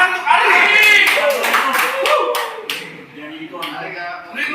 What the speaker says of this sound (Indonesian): Mari kita beri tepuk tangan untuk Ari.